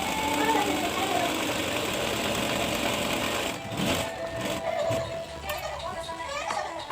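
An electric sewing machine stitches the seams of a chudithar gathering pant, a steady mechanical whirring hum that runs throughout with a brief dip midway, while someone talks over it.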